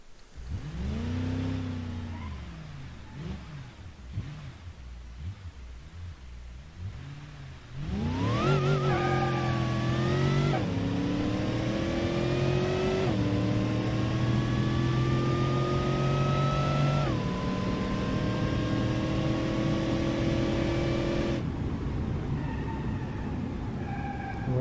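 Simulated car engine in BeamNG.drive running a custom transmission and boost setup, revving and idling unevenly, then climbing steadily through several gear shifts with rising pitch; loud and continuous with no talk.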